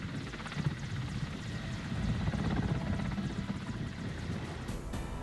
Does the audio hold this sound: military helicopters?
yes